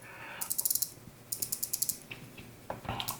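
Rotating bezel on a Citizen Promaster diver watch ratchets in two quick bursts of small close clicks, followed by a few faint scraping handling noises.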